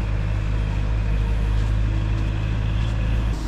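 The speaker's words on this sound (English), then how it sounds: "Probably can't hear me for that forklift truck to be there." A forklift truck working in a factory yard, a steady, fairly close engine drone with a low rumbling hum that continues unbroken and dips slightly at the end.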